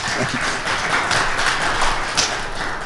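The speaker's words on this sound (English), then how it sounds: "let's have a nice round of applause for Sean and Dan." Audience applause for two presenters at a higher-education session, a steady dense wash of clapping sustained for about three seconds with a few sharper claps standing out.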